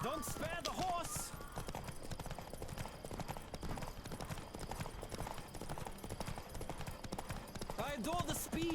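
Horse hooves galloping steadily in a race in The Witcher 3, a fast continuous clip-clop running throughout, with short bursts of voice and game effects near the start and end.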